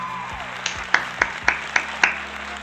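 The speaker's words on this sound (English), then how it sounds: "Let's give a round of applause for the winner of the School of Business, Daniel Wong." Applause at a 2020 instructor and support recognition awards ceremony as a School of Business winner is honored, heard as a handful of sparse, moderately loud hand claps spaced about a quarter second apart over a quiet room hum.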